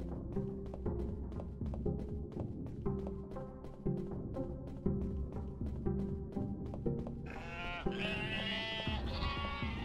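Sheep bleat in the UnMetal video game over a steady, rhythmic musical backing, with a cluster of loud, wavering bleats rising near the end of the stretch.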